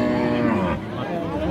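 A Friesian cow or calf at the Raniganj cattle market in Dinajpur lets out a long, loud, low moo that falls in pitch, over a murmur of background market noise.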